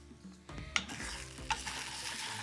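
Chorizo sizzles in a hot pan while a utensil stirs and scrapes through it, with a couple of sharp clinks against the pan; quiet, close and brief, with no voices.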